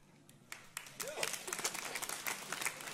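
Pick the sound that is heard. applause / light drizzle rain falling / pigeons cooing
applause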